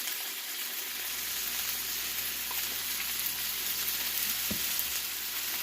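Oil sizzles steadily in a pan while rice chicken pasta cooks, a close, even hiss with a faint stirring knock near the end and no talk.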